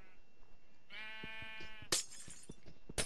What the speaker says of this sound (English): Sheep, get the fuck out of there.